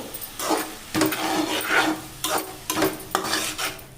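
A spoon scrapes and rubs through curry ingredients with salt in a pan, in repeated rasping strokes with brief pauses between them, close and clear, no voices.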